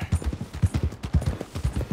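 Horse hooves clip-clop at a steady trotting rhythm in Red Dead Redemption 2, close and distinct, with a faint game backdrop and no speech.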